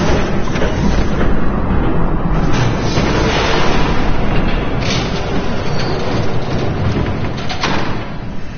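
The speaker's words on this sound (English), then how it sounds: "There's a train coming." A train rumbles toward the player in Batman The Telltale Series, a dense, continuous low roar with heavy thumping, loud and steady throughout with no talk over it.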